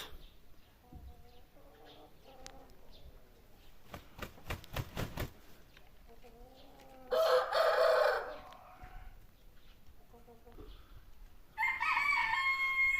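A rooster crows in short bursts near the middle and end, surrounded by quieter clucks and faint background sounds, with a brief burst of rhythmic tapping before the first crow.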